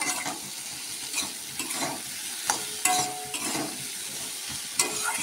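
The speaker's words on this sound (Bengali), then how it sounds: "আমি আরেকটু ভাজা ভাজা করে নেই" Steady sizzling of chopped tomatoes frying in a pan, with a spatula scraping and stirring at intervals and occasional light clinks.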